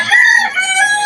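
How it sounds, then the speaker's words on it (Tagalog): A rooster crows loudly and steadily among chickens at a Malabon flea market selling pets and farm animals. The single drawn-out crow is close and fills the whole moment. "Ganyan kabubura yung mga manok dito."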